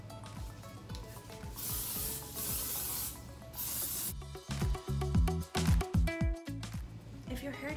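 A steady hiss of hairspray from an aerosol can, in several long bursts while styling hair into beach waves, followed by clattering and rustling handling sounds.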